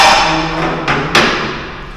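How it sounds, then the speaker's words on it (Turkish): A hammer strikes a cover on a Peugeot Pulsion engine twice in quick succession. The two sharp metallic taps land close together over a fading background hum. "böyle bir çekiç"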